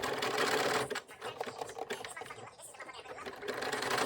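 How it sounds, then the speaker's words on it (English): An automatic sewing machine stitches patchwork onto a custom jersey with a rapid, steady mechanical chatter that pauses briefly and then resumes, close and alone. "All my patchwork is handcrafted, cut, and sewn manually on an automatic sewing machine."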